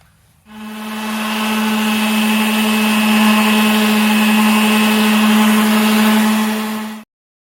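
A power sander works on hard maple and jarrah wooden phone stands, giving a steady, loud whirring hum with a constant pitch that starts abruptly, holds for about six seconds and then cuts off sharply.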